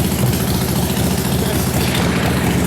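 A loud chopper motorcycle engine runs steadily with a deep, rumbling idle and constant vibration throughout.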